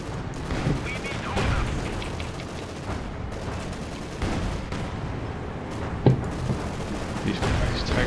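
Explosions and gunfire in Company of Heroes 2 rumble as a dense, continuous wartime barrage, with scattered booms and a sharper blast near the six-second mark under low background chatter.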